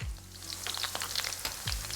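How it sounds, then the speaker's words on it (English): Oil sizzling and crackling steadily as shallots fry in a pan, with a few low thumps and clinks from handling, no voices. "After 30 seconds of frying the shallots, we'll add the onion."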